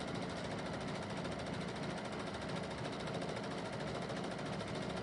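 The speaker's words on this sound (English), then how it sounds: "So this is free motion quilting." A sewing machine running continuously during free motion quilting, a steady rapid mechanical hum and rattle, close and even in level, with no talking.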